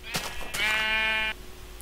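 A single Minecraft sheep bleat, a short nasal wavering cry close and clear against quiet game background.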